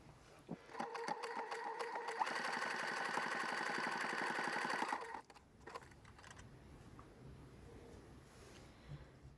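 A sewing machine runs a dense zigzag stitch, width 5 and length 0.9, while finishing a sweatshirt thumb cuff, whirring steadily for a few seconds before stopping; quieter handling noises follow.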